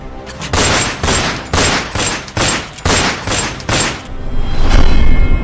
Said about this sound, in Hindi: पुलिस पर अपराधियों की फायरिंग।